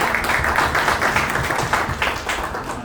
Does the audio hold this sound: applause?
yes